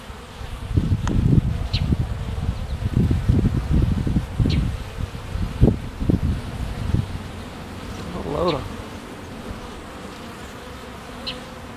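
A honeybee swarm buzzes loudly nearby, with dense droning bursts early that thin to a steadier hum and a few individual bees passing close.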